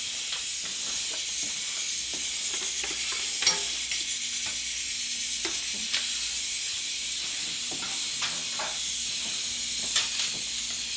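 Meat and its juices poured into a hot pot sizzle and hiss steadily while a spoon stirs with scattered scraping clinks, close and alone for the whole stretch.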